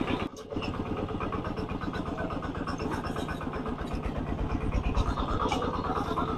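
A walk-behind farm tractor converted into a ride-on three-wheeler chugs steadily at close range, its single-cylinder engine thumping in a fast even rhythm after a brief dip at the start.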